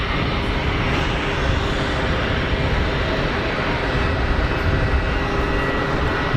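A jet engine spools up at Geneva Airport, a broad, steady roar that holds even and fairly loud throughout, with no talk over it.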